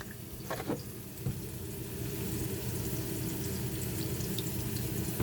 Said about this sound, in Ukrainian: Наливаю молоко.